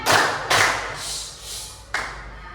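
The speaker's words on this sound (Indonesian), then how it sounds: "coba 1 kali tepuk diam, 2 kali tepuk diam" Schoolchildren in a classroom perform the 'tepuk diam' clapping routine: two sharp, loud group claps, a softer stretch, then one more crisp clap, with no talking.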